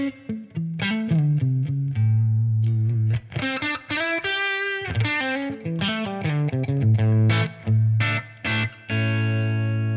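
An electric guitar through a Tonex capture of a Fuchs ODS amp with a baked-in Celestion Vintage 30 cab, without reverb or compression, plays a melodic overdriven lead line of sustained notes and quick phrases, loud and alone.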